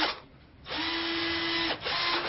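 A power drill whirs in two steady, close bursts, about a second long and then a shorter one after a brief pause, with no talk over it.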